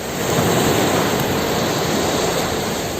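Sea waves roar along the coast of Mauritius, an Indian Ocean island, as a dense, continuous wash of surf that stays loud and even throughout with no voices.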